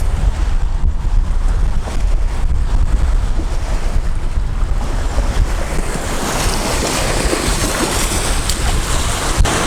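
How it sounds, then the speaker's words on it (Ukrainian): Strong wind on the Kyiv Reservoir buffets the microphone with a constant roar, mixed with water sloshing and waves close by, no voices. "Ну що, дуже сильний вітер."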